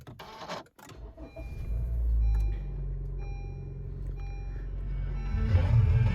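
A Honda HR-V with a push-button start fires up after a faint click and a few soft beeps, then settles into a low, steady idle rumble that swells slightly near the end.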